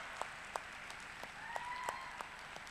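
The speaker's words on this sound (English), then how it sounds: "give them a round of applause" Faint, distant audience applause at an Islamic festival talk, thin scattered claps with a few sharper individual hits over a quiet hall, and a brief tonal whistle midway.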